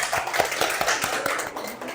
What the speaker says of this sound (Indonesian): silakan kasih tepuk tangan untuk kelompok 1